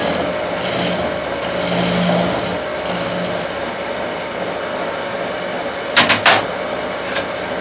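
A wood lathe spins at raised speed while coring a bowl, giving a steady droning whir with a soft rhythmic pulsing, followed near the end by a few brief sharp clatters.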